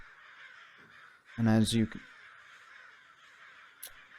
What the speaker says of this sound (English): Outside, you hear a cacophony of crows.